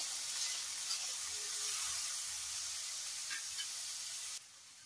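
Small chopped potato pieces hit hot ghee in a pan for a fasting-day dish, giving a steady, close, bright hissing sizzle that runs evenly throughout and drops slightly near the end.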